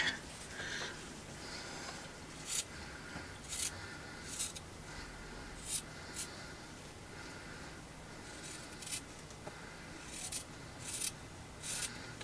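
Scissors snip through fabric appliqué pieces cut from old baby clothes: quiet, scattered crisp snips and short runs of cutting, close by, with soft rustling between them and no talk.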